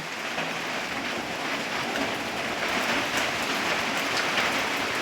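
Light drizzling rain falls in a steady, even patter on surfaces, a continuous hiss with no pauses, moderately close and alone without any voices.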